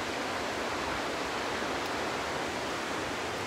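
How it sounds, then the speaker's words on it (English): A waterfall in a small town gives off a steady, even roar of rushing water, loud and unbroken with no voices over it. "I'm standing by the waterfall."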